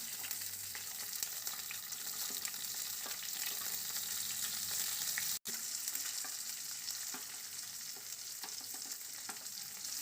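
Green chilies fry in hot oil in a pan for puri curry, giving a steady close sizzle and crackle that continues without pause, with no talk.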